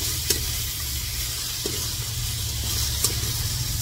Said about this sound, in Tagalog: So ayan na po, haluin natin.